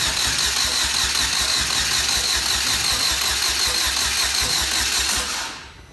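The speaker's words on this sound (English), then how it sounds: "at least we got it turning over" A salvaged race car engine, with a boost kit plugged in and throttle applied, cranks and turns over in a loud, steady, rhythmic churn without catching, then cuts off just before the end.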